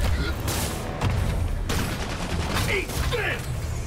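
A web bomb going off in an action video game amid a busy fight: several sharp bursts and booms over continuous rumbling combat noise, with squeals and sweeping effects in between, loud and dense.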